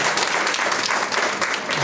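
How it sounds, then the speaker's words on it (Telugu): Dense, steady clapping from a student audience at a university Safer Internet Day awareness event, loud and continuous for the whole stretch with no voices over it. "Give her a big round of applause."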